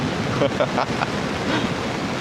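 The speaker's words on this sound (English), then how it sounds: "the sound of the rain and then the ocean" Ocean surf and rain make a constant broadband wash in a coastal setting as a typhoon approaches, with wind buffeting the microphone and a voice briefly audible.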